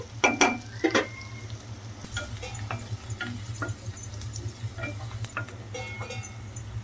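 Onions and green chillies cooking in a covered pan, giving a soft, steady sizzle with scattered ticks, pops and a few louder pan knocks.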